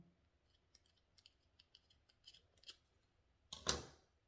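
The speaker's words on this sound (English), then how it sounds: "I'm just gonna cut it a bit short because it's too long" Scissors cut a plant hanger cord with a series of faint small snips, followed by one louder, sharper close cut near the end.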